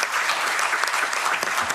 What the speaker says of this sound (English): Thank you for applauding him as well.